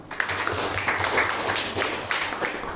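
A classroom group of students claps together in a dense, steady burst of applause, lasting a few seconds at close range with no speech over it.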